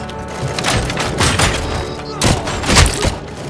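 Dense gunfire in the video game Robocop: Rogue City, loud and continuous, with heavier thumping shots standing out near the middle and end, mixed with shouting game voices.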